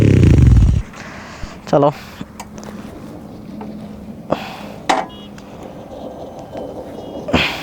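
A Royal Enfield Interceptor 650 fitted with an AEW exhaust lets out a short, loud, deep rumble at the start, then falls away into quiet background as a person speaks intermittently.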